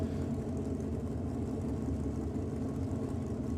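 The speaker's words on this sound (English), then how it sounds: "Issues down there on the start line for Brett O'Connor in the Chevy Camaro." A big block nitrous-assisted Chevy Camaro drag car sits at the start line with its engine running, a steady low idling rumble that holds even and unbroken throughout.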